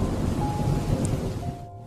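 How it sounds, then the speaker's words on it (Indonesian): Heavy rain pours steadily with a low rumble of thunder underneath, a dense close wash of noise lasting under two seconds. "Hari itu, hujan turun deras."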